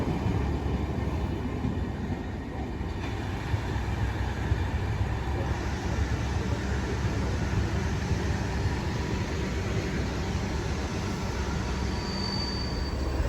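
A train with a class 37 locomotive runs at a platform of Dover Priory station, a continuous heavy rumble with wheel and rail noise that holds steady throughout, close by and loud.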